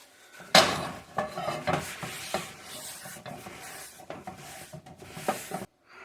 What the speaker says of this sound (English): we are going to wipe out this pan